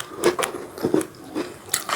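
Crunchy onion fish crackers (kerupuk ikan bawang) are bitten and chewed up close: a few sharp crisp crunches, then steady mastication with no talking.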